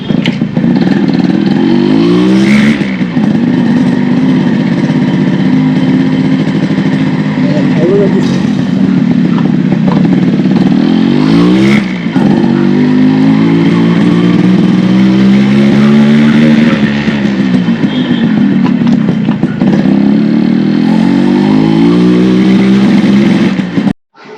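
A restored vintage Yamaha RX 100 two-stroke motorcycle is ridden, its engine loud and close, rising and falling through repeated revs and gear changes for about twenty seconds while someone talks over it.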